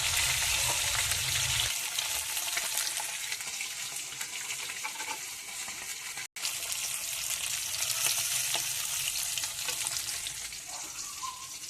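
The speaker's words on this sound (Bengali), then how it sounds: "মাছগুলো একটু ভাজা হয়ে গেছে লাল লাল" Hilsa fish pieces frying in oil make a steady, close, loud crackling sizzle throughout, broken only by a momentary dropout midway.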